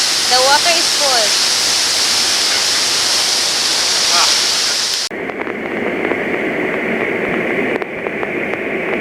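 Palapasan Falls in Negros Oriental, Philippines, pours in a steady roaring rush of falling water. Brief voices sound over it at the start, and the tone of the roar shifts partway through.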